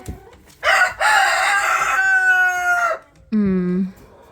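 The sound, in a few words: hen clucking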